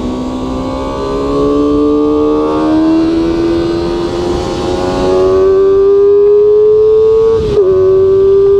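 A QJMOTOR SRK250RD 250cc four-cylinder motorcycle exhaust revs close and loud, its pitch climbing smoothly over several seconds before a sharp blip and a steady high hold.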